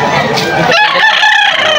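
Rooster crowing loudly and close at a Sunday poultry market in Malolos, Bulacan, one strained crow filling the moment over busy market noise.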